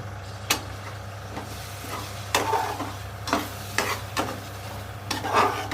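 Curd is stirred into egg biryani in a pot, giving a steady sizzle over a low hum. A spoon scrapes and clacks against the pot several times at irregular intervals.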